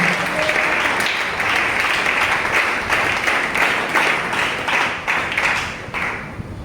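A church congregation applauding the Lord, with sustained, steady clapping from many hands filling the room and holding at a fairly even level throughout before easing slightly at the end.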